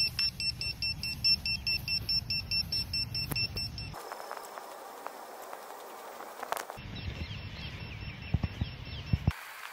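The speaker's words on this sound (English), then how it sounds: "I'm going to start by testing the Helgate FPV buzzer" A Vifly Drone Finder 2 electronic buzzer beeps in rapid repeated bursts, then continues more faintly in shifting patterns as distance grows outdoors, with some background noise and occasional clicks.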